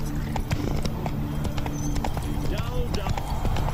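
Horse hooves clip-clop steadily during riding in The Witcher 3 video game, a close rhythmic clatter under game music and ambient sounds.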